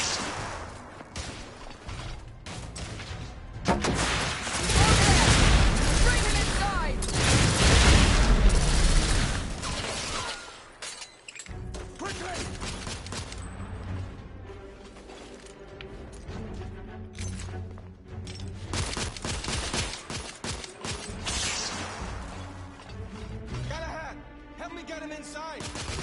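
Suppressive gunfire in The Order 1886 produces loud, rumbling bursts of shots and booms that peak in the first ten seconds. Dense battle noise with clattering continues afterward at a lower level.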